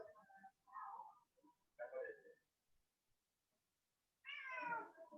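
Hungry pet cat meowing in a series of drawn-out cries separated by pauses, close and clear, ending with a long plaintive meow.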